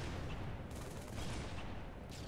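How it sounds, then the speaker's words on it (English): Quiet, continuous gunfire and explosive booms in the shooter Halo 3, a rapid rumbling fusillade of shots at a distance with no speech over it. "I just shoot the ground behind him"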